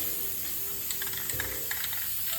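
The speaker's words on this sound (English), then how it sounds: "Put the wreath down inside the spray box and give it a spray." Spray paint hissing onto a pine cone wreath inside a spray box in a garage, a continuous close, steady aerosol hiss with a few faint rattles.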